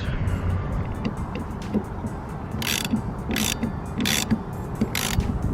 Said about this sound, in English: then I just need to go back to my 13mm socket